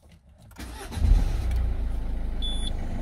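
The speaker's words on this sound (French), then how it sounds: "la voiture démarre du premier coup" A Citroën C3 1.4 HDi diesel, just fitted with a new starter, cranks briefly and catches on the first try, then settles into a steady, fairly loud idle with a low rhythmic rumble.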